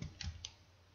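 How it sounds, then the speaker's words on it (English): A computer keyboard is tapped a couple of times in a quiet room, giving soft, separate clicks close to the microphone. "I'm going to put in the equal sign, and I'm going to start typing"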